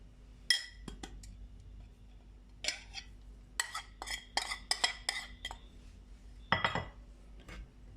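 Flour, cornstarch and spices being tossed and stirred together in a kitchen bowl, giving several short scraping and clinking bursts of utensil against the bowl, close and moderately loud, with quiet pauses between.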